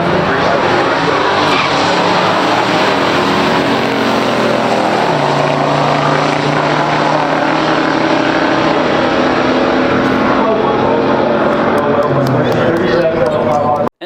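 A 1970 GTO 455 and a 1968 Chevelle SS 396 drag race, a loud, continuous roar of big V8 engines at full throttle, with an announcer's voice talking over the noise until an abrupt cut.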